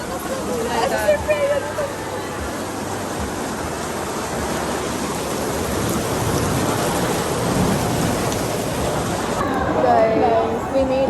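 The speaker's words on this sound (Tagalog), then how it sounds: "sobrang lakas ng ulan" Heavy rain pours down steadily in a dense, hissing roar that fills the whole clip without letup.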